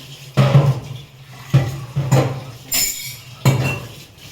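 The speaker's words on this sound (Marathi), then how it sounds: "एवढं टोपमध्ये ठेवलेली भांडी ना सगळी जरा घासून घेतली" Pots and utensils being scrubbed and washed in a village home: bursts of clanking metal and clinking vessels separated by short pauses, close and fairly loud, with no talking.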